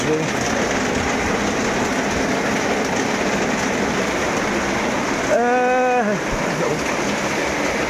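A flowing stream gives a steady, broad rushing wash of water throughout, with a short voiced, tonal sound rising over it near the end.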